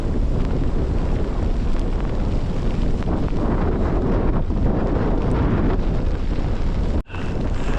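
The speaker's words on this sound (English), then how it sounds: "It's too windy to the point that we can't even set up our own tent." Powerful storm wind on a rocky mountain summit in Sri Lanka roars continuously into the microphone, loud and buffeting throughout, with one sudden brief drop near the end.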